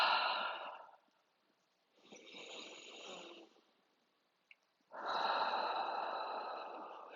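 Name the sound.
exhaling breath during yoga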